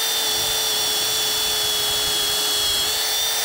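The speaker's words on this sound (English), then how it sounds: "Go ahead and put a hole in this" A power drill boring a hole for a bolt through a goat bridge, a steady high whine running the whole time, close and loud with no talk.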